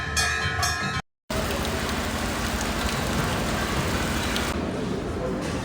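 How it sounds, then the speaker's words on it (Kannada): Heavy rain pours down outside a temple with many parked cars around, a dense, loud and steady hiss after a brief burst of other sound and a momentary cut. "ಮಳೆ ಕೂಡ ಜೋರಾಗಿ ಬರ್ತಾಯಿದೆ."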